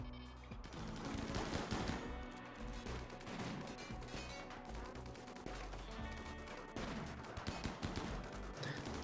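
Rapid, sustained pistol gunfire during a Rimworld raid, many overlapping sharp shots and impacts crackling steadily at moderate loudness.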